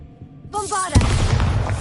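Bombarda blasting spell from Hogwarts Legacy: a rising magical whoosh and shimmer, then a sudden loud explosive boom that rumbles on with crackling debris.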